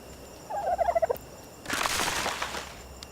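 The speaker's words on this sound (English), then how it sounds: "The dodos are really loud." Dodo calls in the video game ARK Survival Evolved, a rapid series of gobbling, clucking bird notes followed by a broad wind-like rush of ambient game noise.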